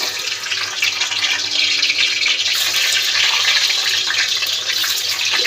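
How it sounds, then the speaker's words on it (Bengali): Eggs frying in a hot pan, a steady, loud, close sizzle and crackle that holds evenly without pause. "ডিমগুলো ভেজে নেব।"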